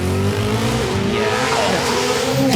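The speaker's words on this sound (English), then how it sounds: "Listen to the engine rev." Koenigsegg Sadair's Spear hypercar revving loudly at the start line before launch at the Festival of Speed, a steady, dense engine roar with rising and falling pitch sweeps, close and continuous throughout.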